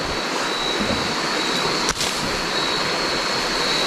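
A steady rush of flowing water, close and constant, with no pauses; a brief knock interrupts it once midway.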